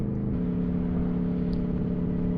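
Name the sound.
Aprilia Tuono 1100 Factory motorcycle engine revving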